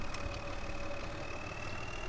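A tractor engine idles in Farming Simulator 2013, a steady, low, even drone with a faint tonal whine that holds for the whole moment with no voices over it.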